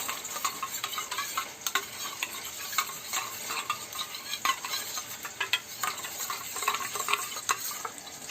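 A spoon stirs mushroom Manchurian batter mixed with water, giving a wet, steady scraping and sloshing with small clicks against the bowl, close up and with no talking.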